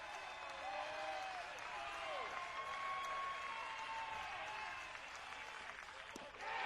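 Crowd at a Stanford college baseball game during an NCAA regional against Cal State Fullerton, applauding and cheering steadily throughout, with a broad roar of many voices, a faint announcer-like voice woven into the noise.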